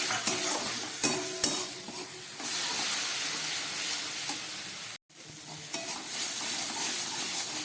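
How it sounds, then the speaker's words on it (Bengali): Spice paste of cumin and dried chili powder with a splash of water sizzles and fries in a pan, steady hissing broken by a few sharp stirring knocks and a brief gap midway. "সামান্য একটু জল দিয়ে দিচ্ছি মশলাটা কষাবার জন্যে"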